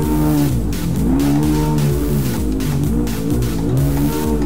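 Jeep Grand Cherokee SRT8 engine revving in neutral in Euro Truck Simulator 2, a loud, steady rumble that rises and falls through several close, repeated rev swells with no talk over it.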